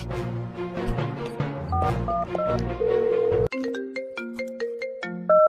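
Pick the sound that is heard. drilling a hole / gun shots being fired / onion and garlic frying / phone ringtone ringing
phone ringtone ringing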